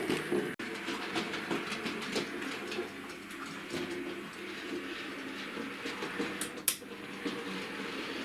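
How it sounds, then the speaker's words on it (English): A Fairburn tank engine model locomotive runs along track, a steady close rhythmic clatter of wheels over rail joints with a whirring motor, a couple of sharper clicks midway, no talk. "You see it runs superb, it's a fantastic loco."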